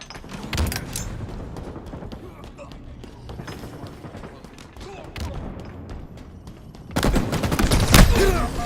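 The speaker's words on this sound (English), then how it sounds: "This guy's shooting everybody on our team." Video game gunfire in a capture-the-flag match: a steady stream of distant and mid-range shots and bursts, swelling into a louder, denser volley near the end, with brief player chatter in places.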